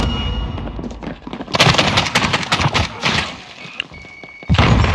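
Loud, rapid thudding footsteps on a stairwell in a video game, with heavy impacts and bursts of game noise, continuous and close throughout.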